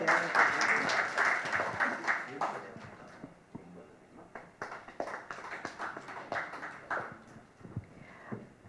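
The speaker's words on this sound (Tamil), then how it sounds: "அவங்களுக்கு ஒரு சிறந்த கைத்தட்டலை கொடுக்கணும் எல்லாரும்" Applause from an audience at a Tamil literary award ceremony, dense clapping at first that thins into scattered claps, with voices mixed in.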